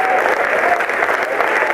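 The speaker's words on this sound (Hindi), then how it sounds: "7-8 लोगों ने ताली बजाई है" A small group of seven or eight audience members at a stage event claps steadily and closely for a brief moment, a dense patter with no pauses.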